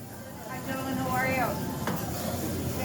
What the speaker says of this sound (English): we gotta add that little garlic here. And we don't wanna burn it, so we're just gonna caramelize it.